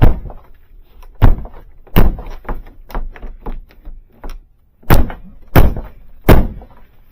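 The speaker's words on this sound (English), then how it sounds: "when I opened the door, it didn't want to stay closed anymore." A 2006 Smart Fortwo door with a faulty latch that will not stay shut, in minus 26 degree cold: a series of loud, close thunks and slams at an uneven pace, with softer clicks and taps between them.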